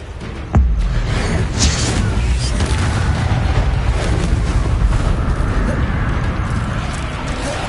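A Confringo blasting spell goes off in Hogwarts Legacy as a sudden loud boom that rolls into a sustained, heavy rumbling roar lasting several seconds, dense and close, with game ambience beneath.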